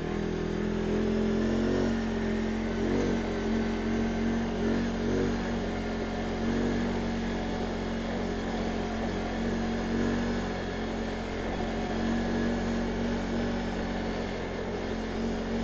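A quad bike's engine drones and revs steadily while riding the Ferroverte trail in April, loud and close for the whole stretch, with slight swells in pitch and no talk.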